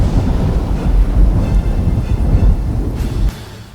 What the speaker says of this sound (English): lightning began to fall all over the place as Demigra was increasing his power a little